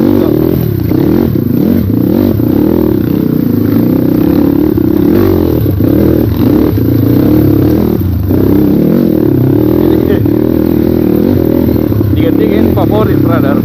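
Up close, a Kawasaki KLX dirt bike roars as it accelerates up a steep trail climb, its engine note rising and falling continuously with some clattering over the rough ground.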